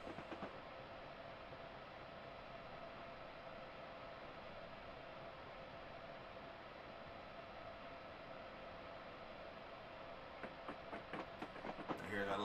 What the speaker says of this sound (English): I tend to try not to talk when the train is revving up